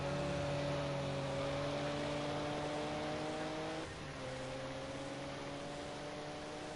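Racing cars at Donington Park's Nationals circuit head into the old hairpin, engines droning loud and steady with sustained harmonic whine, pitch dropping slightly as they brake, several cars overlapping with no talk.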